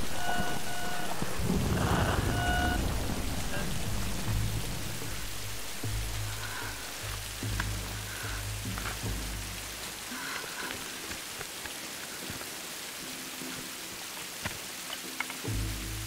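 Steady rain pours in the Tomb Raider video game, with a deep rolling thunder rumble early on that fades beneath the constant hiss of falling drops and scattered droplet taps.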